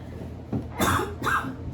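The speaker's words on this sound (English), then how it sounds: "I had a cough." A single close cough, bursting out twice in quick succession, loud and alone with no speech around it.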